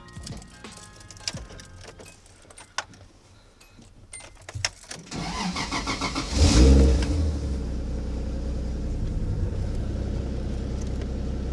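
A 1JZ-engined Nissan 240SX sits quiet through a few clicks and rattles, then cranks and fires up with a rev around the middle before settling into a steady, loud idle rumble.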